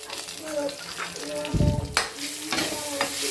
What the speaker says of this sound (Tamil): வெங்காயம் வதக்கிட்டு வரும்